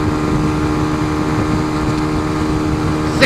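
Motorcycle engine droning steadily at highway speed, around seventy, with heavy wind rush over the microphone; loud and continuous, no talking.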